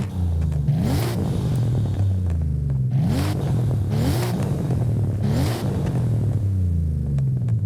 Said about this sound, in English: we need to start today with a bit of a sound test because I know the 1JZ has been highly requested